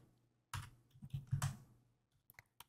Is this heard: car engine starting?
no